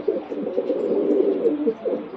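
A red Cheena pigeon coos close by in low, throaty rolling notes, continuous and fairly loud with no voices.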